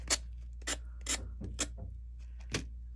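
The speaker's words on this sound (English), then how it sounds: "I've got a sanding block here." A sanding block rubs over a crafted piece in short, separate scraping strokes, about half a dozen rasps spaced irregularly, close and fairly faint over a low steady hum.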